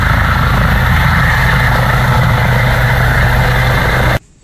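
A toy helicopter whirs loudly and steadily with a droning, buzzing motor hum, close by, then cuts off abruptly near the end.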